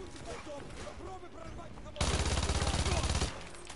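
Rapid automatic fire from a Vector submachine gun in Call of Duty: Modern Warfare 2 Remastered, a dense burst of about a second and a half that breaks in loudly over a quieter stretch of game ambience.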